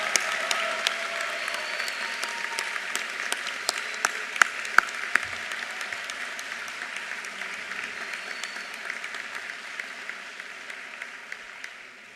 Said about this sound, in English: How about one more round of applause for our 162 student doctors?